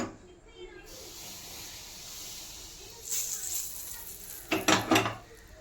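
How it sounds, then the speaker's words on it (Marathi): Hot oil goes into a bowl of jowar flour and besan with black sesame and ajwain, giving a brief hissing sizzle, followed by a few clattering bowl and utensil knocks near the end. "याच्यामध्येच आपण गरम तेल थोडंसं टाकणार आहोत"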